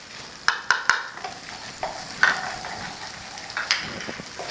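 Onion, green chili and vegetables are stirred in a hot pan for chicken noodles, giving a soft sizzle broken by sharp scraping and clacking strokes of the spatula, several near, quick knocks at the start, then lighter stirring.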